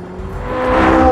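Corvette naturally aspirated 5.5-liter LT6 flat-plane-crank V8 revving, a loud, steadily rising engine note that climbs in pitch and volume over about a second, with no talk.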